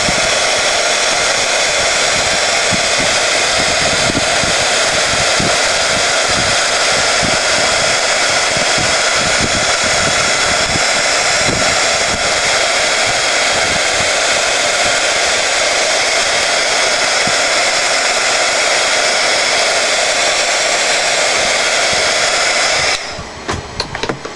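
A heat embossing tool blows a steady, loud, close roar like a hair dryer, melting embossing powder on a craft canvas, continuous for most of the stretch before cutting off at the end.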